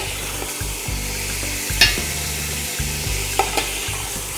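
Chunks of wild boar brown in a hot pan, a steady loud sizzle broken by the scrape and clatter of stirring, with a couple of sharper utensil knocks against the pan.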